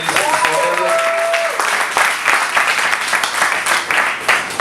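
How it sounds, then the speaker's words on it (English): An audience at an industry networking panel event applauds the panelists, with a dense burst of many hands clapping, loud and close, some cheering voices mixed in and a brief high tone near the start. "Give a round of applause for the panelists."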